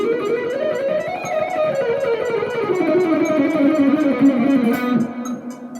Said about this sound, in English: This one's going to combine some ascending sixes with the descending sixes that we just did.